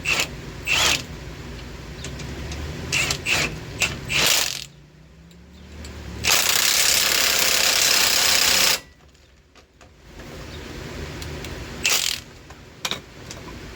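Rapid clicking bursts of a ratchet tightening the track bar bolt on a second-generation Ram V10 front suspension, close and loud, alternating with short pauses and a stretch of steady high whirring.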